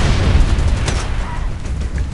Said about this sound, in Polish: coś tam wybuchło